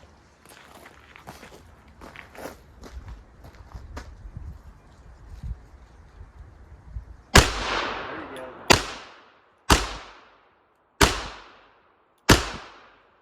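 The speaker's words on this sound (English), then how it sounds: "And when you shoot, stiffen your wrist." A handgun fires five sharp, loud shots spaced about a second apart at an outdoor shooting session, each crack decaying quickly, after a stretch of quieter footsteps and handling sounds.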